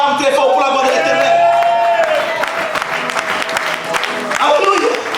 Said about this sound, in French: Acclame très fort pour la gloire de l'Éternel.